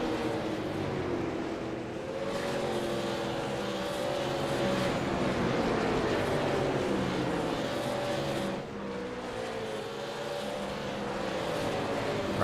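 Late model race cars roaring around the track at South Boston Speedway, a steady loud blend of engines with a shifting pitch as a pack sweeps past, continuous throughout.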